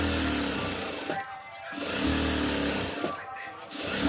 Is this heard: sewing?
yes